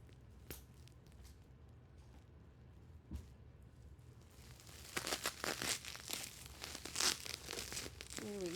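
Faint crinkling and tearing of bubble wrap taped around yarn cakes, quiet at first, then louder bursts of crumpling and ripping toward the end.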